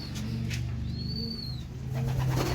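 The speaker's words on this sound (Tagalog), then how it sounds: "meron akong ibong dumating kasali siya kahapon sa race" A racing pigeon newly home from a race gives soft, low, repeated coos close by, with a light chirp and faint background noise from the loft.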